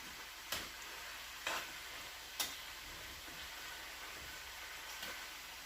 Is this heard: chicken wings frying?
yes